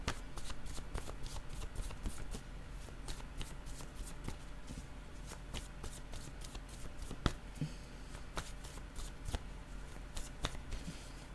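Word cards in a card reading being shuffled and drawn by hand. Quick, soft, papery riffles and flicks repeat steadily at close range and low volume, with no talking.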